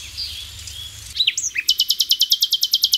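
A few high chirps, then a fast, loud, evenly spaced trill of sharp repeated notes from a nearby wren in a garden.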